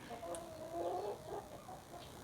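Penned chickens cluck softly nearby in a few short, throaty calls over faint background noise.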